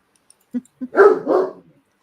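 A dog barks nearby, two short sharp yips followed by two longer, louder barks in quick succession, with quiet between.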